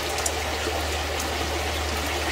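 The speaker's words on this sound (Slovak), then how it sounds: "Vody podzemného toku vyvierajú na povrch neďaleko jaskyne Brestovskou vyvieračkou." Water from an underground stream rises at the Brestovská karst spring near a cave in the Western Tatras. It makes a steady, dense rushing and trickling wash with a low hum beneath it, continuous and unbroken.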